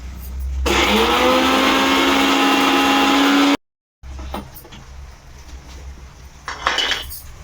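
A kitchen mixer grinder whirs loudly for about three seconds as it grinds masala spices with salt into powder, then stops abruptly, followed by rattling of the jar and lid.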